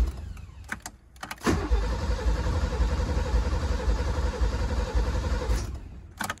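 A TVR Tasmin's starter cranks the engine in one sustained, rhythmic churning run of about four seconds, loud and close, framed by a few sharp clicks before and after.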